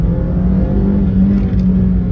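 A Maruti Suzuki WagonR's engine drones and revs steadily as the accelerator is pressed, heard from inside the car as a loud, continuous low hum with no talk.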